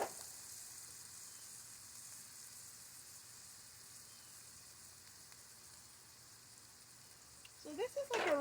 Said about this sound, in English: So this is like a really quick saute.